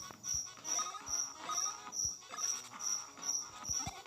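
A cricket enemy in Mario & Luigi Superstar Saga chirps in a regular pulsing pattern, high trills repeating about twice a second over soft game music and faint thumps, with no talk.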